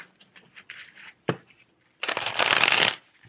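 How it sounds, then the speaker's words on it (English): Tarot cards are shuffled close by in quick, papery riffles and taps, building to a dense, sustained riffle near the end. "Try to shuffle."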